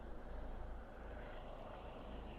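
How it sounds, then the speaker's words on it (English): A low-flying mountain rescue or police helicopter drones steadily over a Welsh mountain path on Cnicht, a continuous muffled rotor and engine rumble with no talk over it. "There's certainly an helicopter out looking for somebody there."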